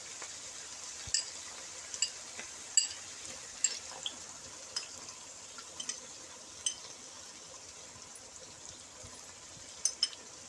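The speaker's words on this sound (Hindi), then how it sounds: "अब योगर्ट को फेंट के इसमें डाल देते हैं" Whisked yogurt stirred into mutton for aloo gosht in a pot over a medium-low flame, giving a quiet, steady sizzle broken by soft scraping clicks of the spoon that come and go.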